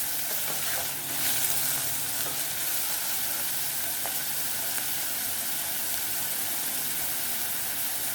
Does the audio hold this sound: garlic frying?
yes